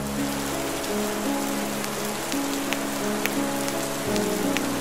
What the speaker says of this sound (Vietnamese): trời đang mưa to